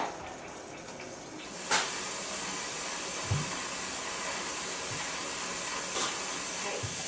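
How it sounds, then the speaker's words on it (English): Steam hisses steadily and softly from the vent of a pressure canner loaded with taco meat, with a few small clicks and knocks over the constant rush. "we've got steam coming out of here, and you want that to allow that to escape for about 10 minutes"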